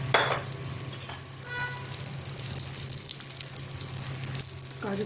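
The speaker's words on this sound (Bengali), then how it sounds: "কাজু কিচমিচ নিয়েছি, ভেজে নেব।" Cashews and raisins frying in ghee in a kadai for basanti pulao, a steady bright sizzle with a few stirring clicks throughout, close and fairly loud.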